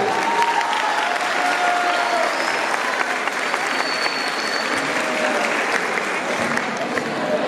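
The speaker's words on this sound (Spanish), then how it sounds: "Fuerte el aplauso para el segundo medio C." Sustained, loud applause from a school audience for a second-year class group performing a chamamé folk dance, continuous dense clapping with crowd noise throughout.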